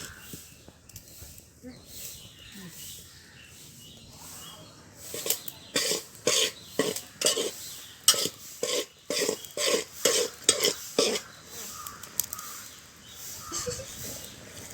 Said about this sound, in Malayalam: ഇനി നമുക്ക് മാവ് വറുത്തെടുക്കാം